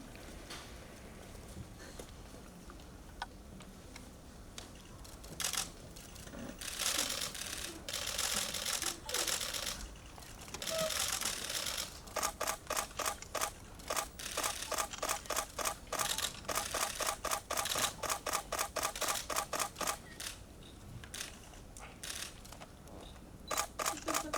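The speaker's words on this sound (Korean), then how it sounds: "이제 윤유서 배우님 포토월 중앙에 서주시고 사진 촬영 진행하겠습니다." Camera shutters at a Korean film press screening photo call, a dense, fast clatter of many overlapping clicks and bursts that builds up and continues steadily throughout.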